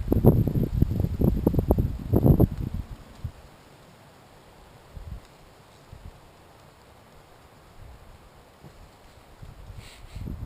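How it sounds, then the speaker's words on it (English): Gusts of wind buffet the microphone in loud rumbling bursts at first, then settle into a softer, steady rush with occasional rustles. "It's really getting windy."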